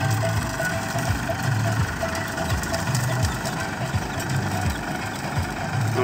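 A tractor engine runs with a rotavator attached, giving a steady, close mid-pitched rumble with a slightly knocking, vibrating texture and no voices on top.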